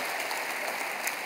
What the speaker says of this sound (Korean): 여러분께 박수로 환영하시지요.